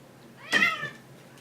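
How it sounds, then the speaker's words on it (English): A cat meows once, a single clear drawn-out cry that is close and loud against a quiet background. "Fucking cats."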